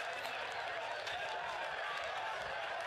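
Crowd at a soccer match in Toyota Stadium, a steady broad roar of cheering and clapping, distant and continuous.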